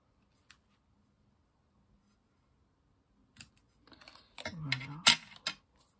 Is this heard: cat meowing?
no